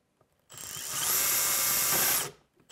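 A power drill bores into wood while fitting extra ballast weight, with one loud, steady whirring run that rises and then cuts off, with no talk.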